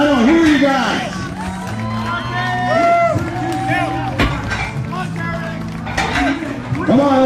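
Spectators at an outdoor strongman competition cheer, whoop and shout loudly throughout, with a voice calling out over the crowd noise.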